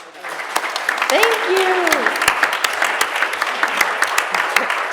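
Audience applause closing out an Art and Identity panel at the 2022 Washington Weekend, a steady crowd of clapping sustained across the whole stretch, with a speaker's brief thanks heard over it.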